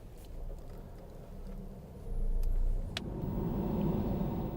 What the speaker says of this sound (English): The white B-Class is on a collision course.